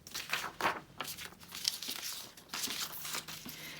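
A sheet of music paper is torn by hand in a run of short, crinkly rips and rustles. The sound is close and fairly soft, with brief pauses between pulls.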